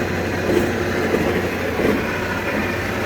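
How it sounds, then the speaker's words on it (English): A steady mechanical whirring drone with a faint rhythmic rumble from a worn right rear axle bearing on a Toyota 4Runner, grinding continuously at close range, with no voices. "You can hear that noise. That's all coming from the right axle bearing"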